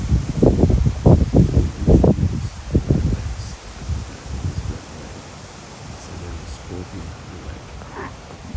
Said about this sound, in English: God, this wind is just nasty.